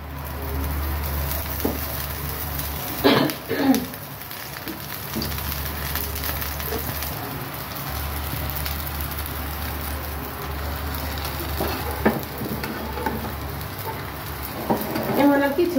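Flatbread crackles in oil on its second side, a close, pattering sizzle over a low steady hum, with occasional sharper pops and a voice now and then.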